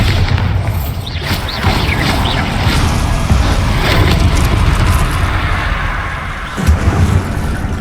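Bombarda blasting spell from Hogwarts Legacy, a deep rumbling explosion that booms steadily and loudly throughout, with a second heavy swell near the end, no talking.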